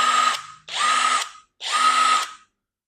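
A budget DeWalt-compatible impact wrench on speed setting 1 runs in three loud, close bursts, each a steady whirring buzz lasting under a second, separated by short silences.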